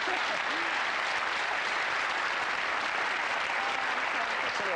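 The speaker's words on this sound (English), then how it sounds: "Give him a round of applause there, all right?" Studio audience on a 1990 British game show applauds a contestant, a uniform wash of sustained clapping from a full crowd, even in level from start to finish.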